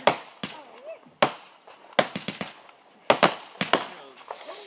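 Big fireworks exploding at a Memorial Day gathering, sharp loud bangs in irregular bursts, some in quick clusters of three or four, with crackling tails and people talking in between.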